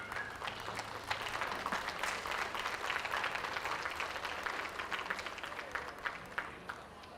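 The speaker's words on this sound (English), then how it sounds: "Big round of applause for the heavyweights" Sustained applause from an audience at a school livestock show's sheep and goat judging, dense steady clapping that holds at an even level throughout with a few sharper individual claps standing out.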